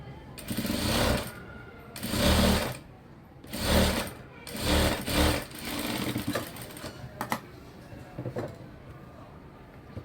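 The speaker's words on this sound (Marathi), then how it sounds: "आता यावरती धार शिलाई करायची आहे." Sewing machine stitching fabric edges for a tucked belt, several short bursts of rapid close whirring separated by pauses, ending with lighter handling clicks.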